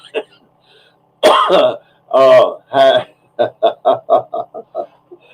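A person coughs and clears their throat close by in a few heavy bursts, followed by a run of short, rhythmic throaty hacks that fade toward the end.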